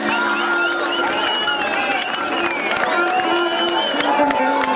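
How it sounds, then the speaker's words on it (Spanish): A crowd at a live music show at a party venue applauds and cheers, dense clapping with whoops rising over the band's music, loud and sustained throughout. "Los aplausos para la verdadera, que se escuche."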